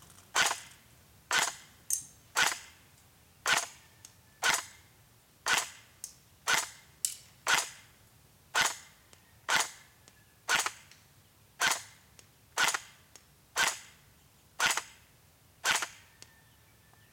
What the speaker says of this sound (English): let's go ahead, take a few shots, semi-auto up first